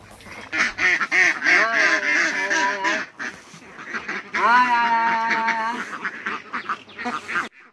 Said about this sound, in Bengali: এই বাড়িতে কিন্তু অনেক হাঁস পালেন তারা।